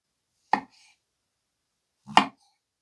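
Two separate crisp knife cuts through mushrooms on a board, made with a blade from a Coquusaid 15-piece knife block set, each a sharp chop followed by silence, close and clean with no talking.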